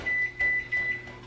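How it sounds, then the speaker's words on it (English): A microwave oven heats honey-filled sweet buns and gives three short electronic beeps at an even pace, close and clear over a low hum. "you just have to microwave it for like 15 seconds"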